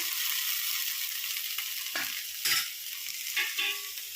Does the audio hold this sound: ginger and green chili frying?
yes